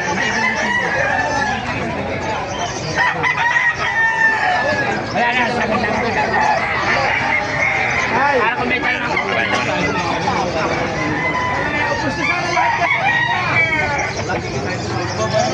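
Roosters crow and chickens clucks amid a busy crowd's babble and chatter at a chicken market in Bocaue, Philippines, a dense, loud outdoor hubbub with people talking throughout.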